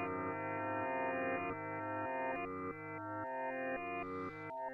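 Reversed-envelope synth tones from an SWN Spherical Wavetable Navigator wavetable module, sustained notes that swell instead of decaying, changing pitch every half second or so in a steady sequence, close and alone.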